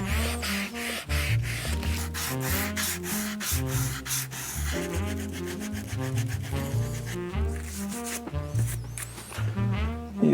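Rasp filing a Vibram rubber shoe sole on a bespoke shoe, rapid rhythmic scraping strokes close up, steady and repeated throughout.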